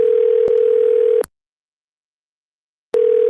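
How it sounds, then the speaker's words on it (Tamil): A phone sounds during a live online audio chat: a steady electronic tone holds for over a second, cuts to silence, then starts again. "யாரோ போன் அடிக்குதுங்க. போன்லாம் வைப்ரேட் ஆகுதா?"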